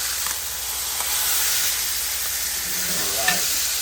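Thick blackened fish fillet sizzling steadily in a hot frying pan for a Po' Boy, a broad continuous hiss with a few faint clinks and a brief scrape near the end as it is flipped.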